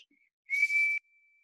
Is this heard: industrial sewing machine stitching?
no